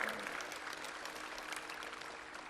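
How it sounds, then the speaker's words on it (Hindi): An audience applauds steadily, a dense wash of clapping hands that holds at an even level throughout and fades slightly toward the end. "दोस्तों जरा जोरदार ताली बजाओ भाई।"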